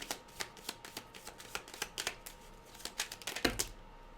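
Tarot cards are shuffled close up in a quick series of crisp riffling flicks and taps, repeating steadily for several seconds.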